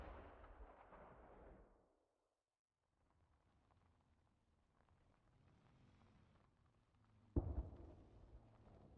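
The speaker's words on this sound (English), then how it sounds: "Someone knows where I am and they've got me with a mortar, I think." Mortar fire in the video game Arma 3: a sustained roar of distant gunfire and blasts fades out into near silence, then a low rumbling barrage builds, capped by one sharp, loud close impact near the end.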